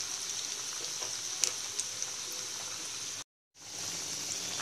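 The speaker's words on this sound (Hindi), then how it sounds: "इसे हम मीडियम हाई फ्लेम में फ्राई करेंगे और इन्हें हमें गोल्डन ब्राउन होने तक फ्राई करना है।" Potato snacks deep frying in oil on medium-high flame, a continuous bubbling sizzle close up with a few small pops, briefly cutting to silence before resuming.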